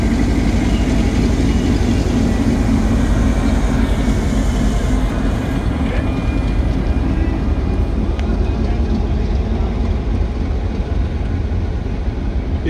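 A long freight train hauling 30 wagons loaded with 20- and 40-foot containers rumbles past on its maiden run, a dense continuous roar close by that barely changes over the whole stretch.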